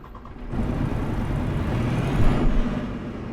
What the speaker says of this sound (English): The engine dies before the service.